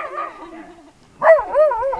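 A dog gives a few short, whiny yelps and barks up close, with a quiet pause between the first and second bursts.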